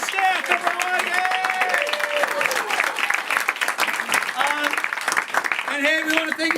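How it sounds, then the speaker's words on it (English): A comedy club crowd applauds its staff with sustained, loud clapping, whoops and cheers, and excited voices shouting through the ovation. "Give it up for our staff"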